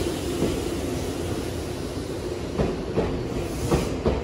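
An old Kintetsu or Nankai railway train runs with a loud, continuous rumble heard from on board, and faint rhythmic wheel clacks come through toward the end. No one speaks.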